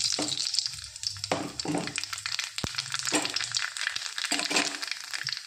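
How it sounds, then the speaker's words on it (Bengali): Black cumin seeds sizzle and crackle in hot oil for a tempering before mashed taro is cooked, a steady close frying hiss with a few stirring scrapes and one sharp click. "এবার দিয়ে দেবো ফোড়নে একটু কালো জিরে"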